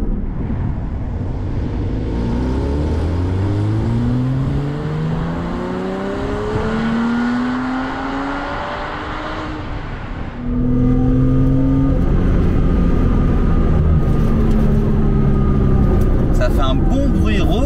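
A Porsche Boxster S 987 running on ethanol revs hard toward 7000 rpm in two rising pulls, with its flat-six howl loud and close as a voice talks over it.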